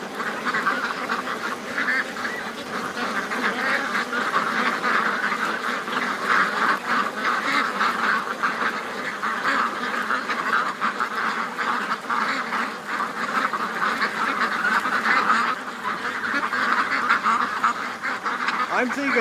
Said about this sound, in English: Oh, we got a little bit of a duck freakout happening over here.